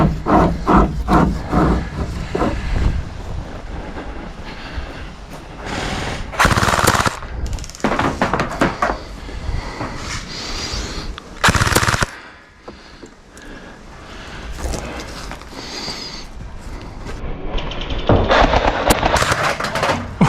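An LDT MP5 gel blaster firing during gameplay in bursts of rapid full-auto shots, loud and close, broken by brief pauses and a quieter stretch.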